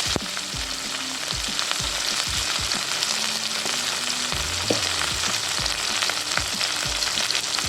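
Tomatoes sauté in a pan with onion for a drumstick masala curry, giving a steady, fairly loud sizzle with intermittent scraping stirs and clinks of a spoon, no talking.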